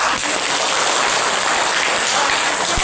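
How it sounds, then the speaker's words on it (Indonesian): An audience at a talk applauds on cue, a loud, dense hiss of clapping that stays even and close from start to finish. "Boleh tepuk tangan."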